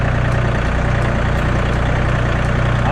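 A farm tractor engine idles on a rainy day in a farmyard, a steady close rumble holding an even rhythm throughout with no voices.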